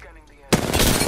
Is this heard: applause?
no